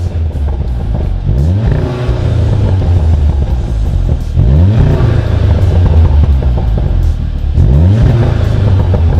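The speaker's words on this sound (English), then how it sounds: "let's find out what the stock exhaust sounds like." Stock exhaust on an Audi TT revs hard three times, each rise climbing and falling back to a loud, rumbling idle between bursts, close and dominant throughout.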